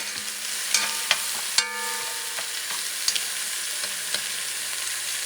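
Grated Roma tomato is stirred in a hot pan, producing a continuous frying sizzle with a few distinct spoon-on-pan knocks and scrapes spaced across the stretch, with no talking.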